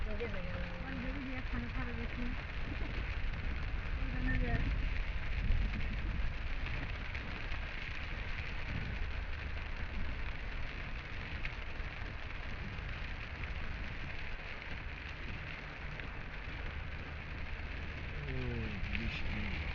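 Rain falls steadily on a street in a garment-factory district as vehicles move through it, a soft, even hiss lasting throughout beneath a voice.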